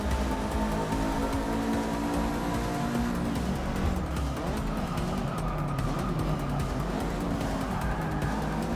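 Race cars roar around a circuit in the video game Forza 6, a sustained, layered engine drone with shifting pitch as they accelerate and brake, occasional tire squeal mixed in, loud and continuous without speech.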